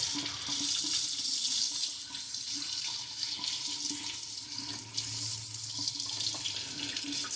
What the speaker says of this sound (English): You want to rinse them real good, because that brine is very salty.